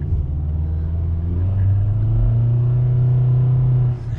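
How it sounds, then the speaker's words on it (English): A 2011 Nissan Altima four-cylinder engine accelerates hard from a stop sign, a steady loud droning rumble that rises in pitch and holds for several seconds before easing off, heard from inside the car with no talking. "This time I'm gonna really give this 4-cylinder a run for its money."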